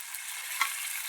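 Minced keema with a splash of water sizzles steadily in a pan, close and continuous, with one brief scrape of a stirring spoon partway through.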